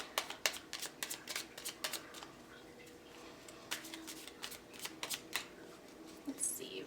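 Revival Art Lenormand cards being shuffled by hand, a run of quick, close papery riffles and slaps in uneven bursts with brief pauses.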